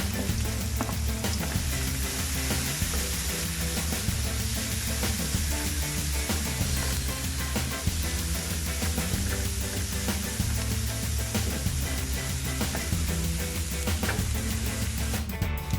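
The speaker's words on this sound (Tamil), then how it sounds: "இப்போ வெங்காயம் நல்லா வதங்கி ஒரு மாதிரி கோல்ட் கலரில் வந்துருச்சு" Onions and chillies sauté in hot oil in a pan for a drumstick leaf chutney, a loud, continuous close-up sizzle with occasional stirring scrapes and no voices.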